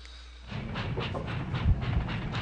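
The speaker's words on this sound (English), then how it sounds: "this train will just keep going on forever" A train rolls along rails in the game Breath of Fire III, starting from near quiet and settling into a steady rumble with a rhythmic clacking and occasional heavier thumps, with no talking.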